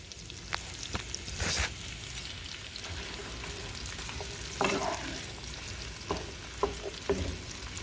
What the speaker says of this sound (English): We're gonna saute these until they get transparent.